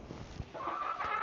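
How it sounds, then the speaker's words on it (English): Chickens in a coop give a few soft low clucks, followed by a brighter, higher call, all close by with light background noise. "It's back to the clucking again."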